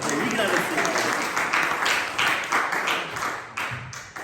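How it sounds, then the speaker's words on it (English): Audience applause at a church reflection service following a magic trick, steady dense clapping from a sizable crowd that swells and dips in waves, with a few voices mixed in beneath. "Give her another round of applause right there."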